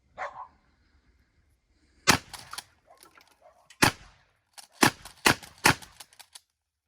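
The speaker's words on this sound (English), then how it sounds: "You hold the trigger down, and then you just pump. You just pump, full stroke, and it'll fire every time." Ithaca Model 37 pump shotgun slam firing with the trigger held down: several sharp, loud outdoor reports, the last few coming in quick succession, with small mechanical clacks of the pump between them.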